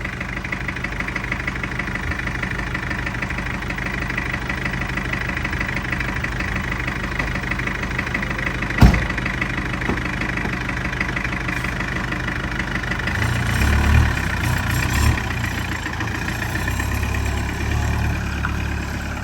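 A cheap used car's engine runs steadily while the car is driven, a continuous mid-low hum with one sharp knock near the middle and a brief rise in low rumble later, no speech.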